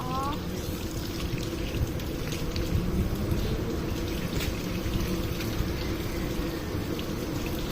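A continuous wash of running water, steady and fairly close, with no clear breaks over several seconds.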